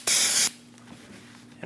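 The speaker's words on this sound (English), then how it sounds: "We're going to spray a clean rag with some brake cleaner" Brake cleaner is sprayed onto a clean rag in a single loud, close hiss lasting under half a second, followed by quiet workshop room tone.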